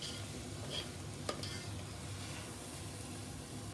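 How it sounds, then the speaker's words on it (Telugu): Soaked basmati rice stirred and fried in a spiced oil tempering, a continuous close sizzle with spoon scraping and one sharp clink against the pan. "రైస్ కూడా కాసేపు ఫ్రై చేసుకున్నాము"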